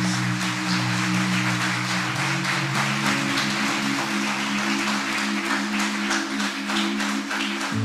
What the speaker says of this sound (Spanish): Denle un fuerte aplauso al del Rey de Reyes